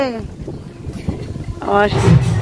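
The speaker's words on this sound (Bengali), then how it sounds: "কি যে দারুণ হাওয়া দিচ্ছে।" A strong breeze buffets the microphone outdoors with low rumbling gusts, while a voice talks over it and a tonal call rises near the end.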